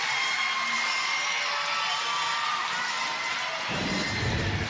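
A large softball stadium crowd cheers for the Cascade in a sustained, dense roar of voices and whoops that holds steady throughout, with no clear talk above it.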